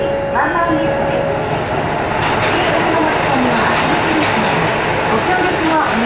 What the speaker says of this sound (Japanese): この列車は伊勢鉄道線経由、各駅停車の四日市行きワンマン列車です。